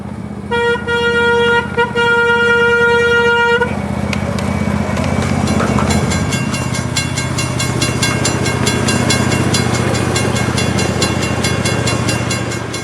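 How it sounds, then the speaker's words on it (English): A miniature passenger railroad train in a park in Fort Myers, Florida rolls along with a continuous rumble while a loud horn toots twice at the start, then a high whistle-like tone sounds over the running. "there's even a miniature railroad that takes passengers on a 15-minute ride through the park"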